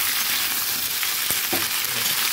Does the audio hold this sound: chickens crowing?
no